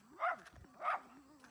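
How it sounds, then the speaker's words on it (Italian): Neighbourhood dogs on a remote lane in the mountains of Vietnam bark twice, two short, fairly faint barks about half a second apart over a low steady hum. "invece è una riunione di cani vicini di casa, su un viale sperduto su delle montagne in Vietnam"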